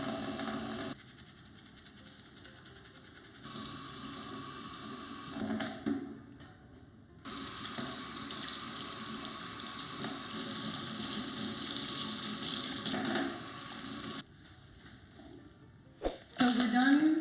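Tap water runs in a steady hiss while stiff, dried oil paint brushes are washed out. The flow cuts off and restarts a few times, with brief handling knocks and faint background voices.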